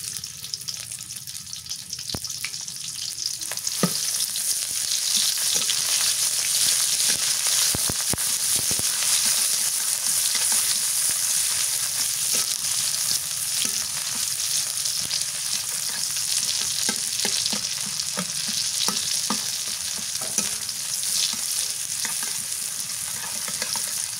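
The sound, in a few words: onion paste sizzling as it fries in a pan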